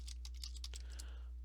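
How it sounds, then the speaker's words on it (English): A fast flurry of computer keyboard key presses rattles close by as fingers brush across every key, fading to a steady hum at the end. "the fun part is swiping across your keyboard"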